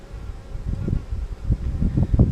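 Honeybees buzz in an open hive during a split of a queenless colony that is raising emergency queen cells. The hum is close and continuous, with low throbbing swells that grow slightly louder toward the end, and no voices.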